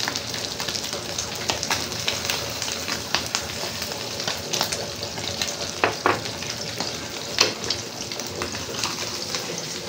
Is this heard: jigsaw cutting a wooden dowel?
no